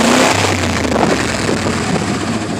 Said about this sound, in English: I think it might have an exhaust leak.